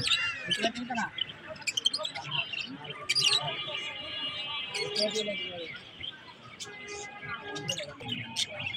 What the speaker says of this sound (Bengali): দেখেন বাজরিগার পাখিগুলা, যেগুলা হলুদ